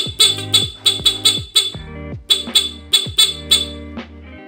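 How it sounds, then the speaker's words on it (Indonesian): A small standard car horn on a vehicle being fitted with two horn types honks in a rapid series of about a dozen short, sharp beeps, loud and close, with brief gaps between bursts. "klakson kecil."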